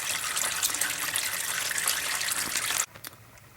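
Oil from a car engine pours steadily into a drain pan in a continuous liquid rush, then cuts off abruptly near the end to a quieter trickle.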